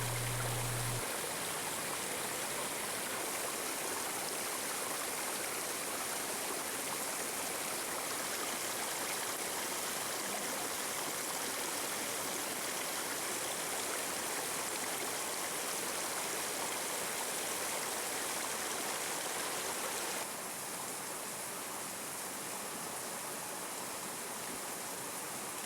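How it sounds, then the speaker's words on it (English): Mallyan Spout, a 70-foot waterfall in a ravine near Goathland on the North York Moors, gives off a steady, unbroken rushing roar that holds at an even level throughout, with no voices. "the impressive 70-foot high waterfall of Mallyan Spout"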